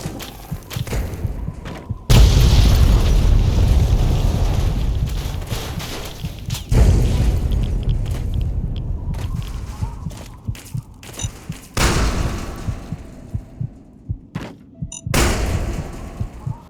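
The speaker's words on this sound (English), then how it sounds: "narrowly escape explosions and gunfire in an oddly cinematic sequence" Heavy booms and thuds hit repeatedly, with loud rumbling blasts and sharp cracks in between, like a chaotic battle of explosions and gunfire in the video game Fallout 3.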